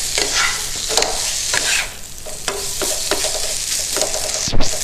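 Shrimp dumped into a hot pan for shrimp pasta, a loud close sizzle with repeated scraping stirs and a sharp clank near the end.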